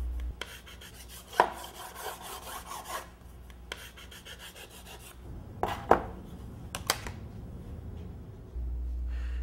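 Wind turbine blade material being filed and sanded to shape, a quiet, uneven rasping rub broken by a few sharp knocks, close by with no talking.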